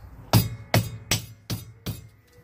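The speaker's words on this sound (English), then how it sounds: "You can use a rubber mallet to hammer it in all the way." Five sharp thuds of a rubber mallet hammering a cap onto a Honda Accord rear hub, evenly spaced about every half second, close and fairly loud with short ringing decays.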